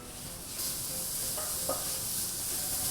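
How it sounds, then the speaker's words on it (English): Bacon sizzles in a hot pan with a steady, moderately loud hiss, broken by a few faint clinks or tones. "We start off by adding our 3 sliced bacon pieces inside of our pan. Get that sizzle."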